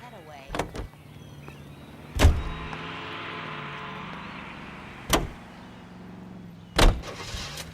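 A car in the L.A. Noire video game: a low engine hum runs beneath a few heavy thuds like door slams, with voices talking now and then.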